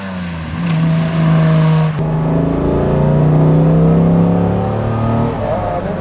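A 1955 Mercedes 300 SL Gullwing engine under way, a loud, close, sustained drone that rises and pulls as the car accelerates, with no talk over it.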